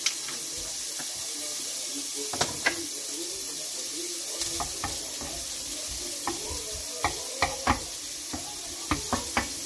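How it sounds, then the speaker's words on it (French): Bacon lardons fry gently in butter in a pan, giving a soft, steady sizzle broken by a few sharp clicks and knocks of a utensil, fairly quiet with no speech. "j'ai mis un peu de beurre. Je mets les lardons."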